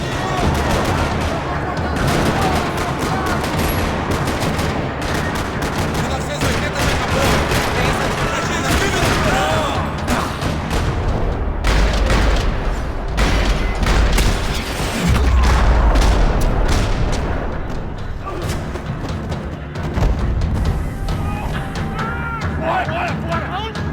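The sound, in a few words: gunfire in parking lot, Max Payne 3 video game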